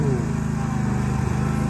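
A lawn mower converted into an unmanned rover drives with a loud, steady buzzing engine drone close by that holds constant throughout the short stretch, with no talking.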